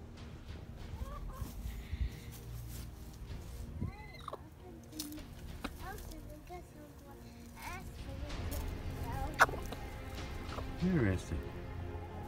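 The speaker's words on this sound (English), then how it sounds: "Let's go give those chickens some food" Chickens in a yard cluck and murmur intermittently in the background, fairly faint under nearby outdoor voices and movement.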